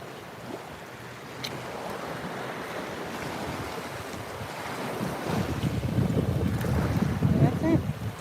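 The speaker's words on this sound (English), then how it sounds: "let you guys enjoy the sound of the sea and the waves" Sea waves wash ashore on Fort Myers Beach under strong wind buffeting the microphone, a broad steady roar that swells louder toward the end.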